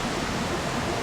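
Water running down a hillside near Zlatibor, Serbia, a steady dense rushing hiss with no breaks, close and moderately loud.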